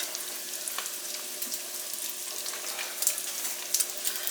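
Hot potato soup stirred in a pot, a steady low simmering hiss with soft scraping and a couple of faint clinks near the end, no talking.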